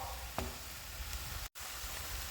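Meat simmering and sizzling in a pan with onion, bay leaf and garlic, with a steady close frying hiss throughout and a brief break near the middle.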